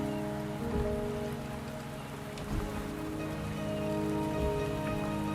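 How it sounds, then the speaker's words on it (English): Steady rain falls in the video game Wuthering Waves, a dense, even patter that fills the whole stretch, soft and continuous with a low musical drone beneath. "The rain is subsiding, and the sky will soon clear."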